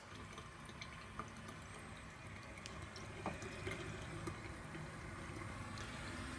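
Water runs steadily from a faucet in an old house, a constant splashing stream into a basin with faint drips, close and moderately quiet, no speech.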